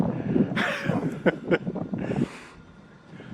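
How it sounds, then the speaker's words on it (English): Wind gusting across an open microphone in wide, quiet countryside near the Ruby Mountains in Nevada, a steady rumbling buffet with a couple of stronger bursts before it eases off. "Uh-oh. Wind."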